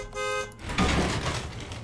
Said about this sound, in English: I heard you honk.